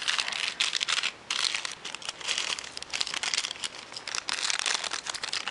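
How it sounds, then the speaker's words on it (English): Continuous crinkly plastic rustling with bursts of tearing and crackling as tape is peeled off a plastic bag, close up and fairly steady, no voices. "I'm going to take the tape off."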